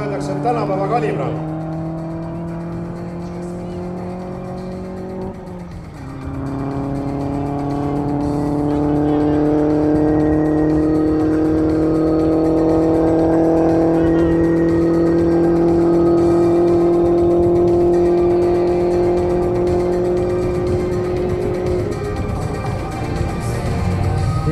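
An Opel Astra Coupe 2.0 turbo race car at a one-kilometre top-speed event, engine rising loudly through gears with a shift midway and a sustained high-revving pull, with speech heard over it.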